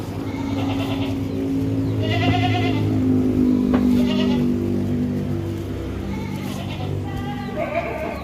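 Goats, including a pregnant Doro doe, bleating repeatedly in a pen, several wavering cries one after another over a steady low hum, fairly close and loud.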